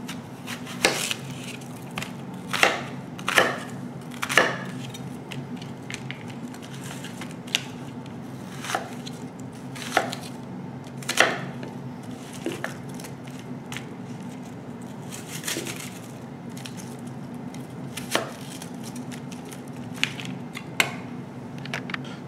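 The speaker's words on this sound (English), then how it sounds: "Let's say I've got two nice sized onions like this. Just chop them up like that." A knife chopping two onions into large pieces on a cutting board, with sharp, irregularly spaced chops clustered early and then sparser, over a low steady background hum and no talk.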